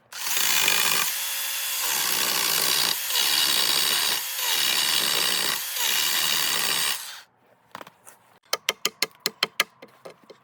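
A hand saw cuts a wooden stick trimmed for a log cabin bed frame, steady loud back-and-forth strokes for several seconds, then the blade stops and a burst of sharp wooden knocks and taps follows.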